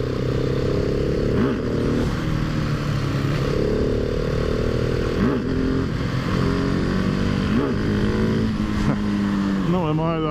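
Husqvarna 701 Supermoto single-cylinder motorcycle riding hard in third gear, engine note rising and falling through several throttle surges, loud and close with constant wind rush and a voice talking over it.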